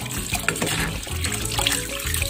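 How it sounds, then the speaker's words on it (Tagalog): Water runs steadily from a kitchen tap over cooked sago tapioca pearls being rinsed in a sink, a continuous close splashing trickle without pauses. "Hugasan ng hugasan."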